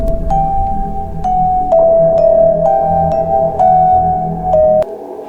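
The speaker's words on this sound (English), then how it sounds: "in sound effects you can add things like horror sounds like this" Eerie horror sound effect from CapCut: a sustained ringing tone over a low rumbling drone, punctuated by regular sharp ticks about once a second, ending abruptly.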